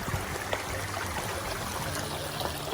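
Mountain spring water flowing steadily in the Sierra Madre countryside of Cagayan, a continuous close trickling and streaming with a constant wash of liquid noise and no voices.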